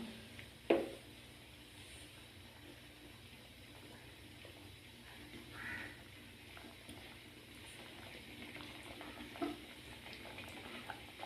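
A pan of fish curry in coconut milk cooks with a soft, steady bubbling hiss, broken by an occasional clink of a utensil against the pan. No one speaks.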